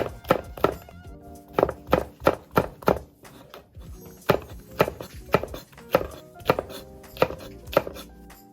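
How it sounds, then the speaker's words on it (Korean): A knife chops thin rounds of chili pepper on a cutting board, making crisp, close thunks in quick clusters of two to four strokes separated by short pauses. "고추는 송송 얇게 썰어주세요"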